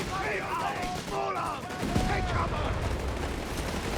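MP40 submachine gun fire in Company of Heroes 3, rapid crackling bursts layered with battle noise and scattered shots, while someone talks over the top.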